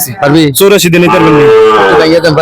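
A cattle market in Comilla, where a young bull moos loudly and close by in a long drawn-out call, with voices around it.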